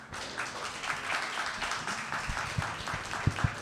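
Audience round of applause at the close of a crisis forum, a soft, fairly distant wash of clapping with a few sharper individual claps standing out near the end.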